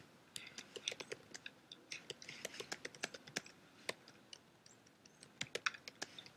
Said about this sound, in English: I type in my other address.